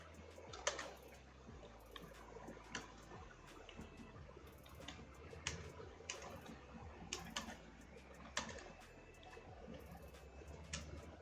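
Faint, steady clicking of keys on a computer keyboard, quick irregular taps with occasional louder strokes, no talking.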